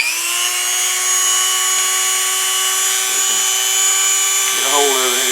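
A Dremel rotary tool cuts a part for a Kadet LT 40 trainer model airplane, giving a loud, continuous high-pitched whine that dips briefly under load as it bites into the workpiece.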